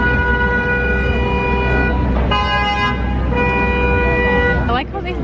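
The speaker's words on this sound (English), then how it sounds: "I like how they honk and there's like nowhere to go." Car horns honking in congested East Coast traffic, long sustained blasts layered over one another and close by, with the steady rumble of vehicles underneath and people talking over it.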